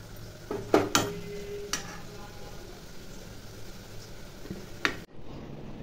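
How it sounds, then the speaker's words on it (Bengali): Lentil fritters (dal bora) fry in a pan with a low background sizzle, broken by a few sharp clinks and scrapes of a utensil stirring against the metal, close up. "ডালের বড়াটা করে নিচ্ছি"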